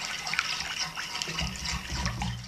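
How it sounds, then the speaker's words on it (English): Water running steadily from a tap into a smoked mackerel pate mix in a home kitchen, a continuous close splashing hiss with no talk. "I've just got to add a bit of water"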